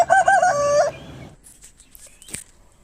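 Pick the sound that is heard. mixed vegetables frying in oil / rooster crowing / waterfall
rooster crowing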